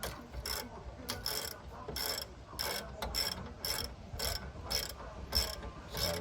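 Socket ratchet wrench tightening a fastener while fitting Mustang rear springs to a Grand Marquis: a steady run of close, crisp ratchet clicks in regular bursts of back-and-forth strokes, roughly eleven strokes, with no talking.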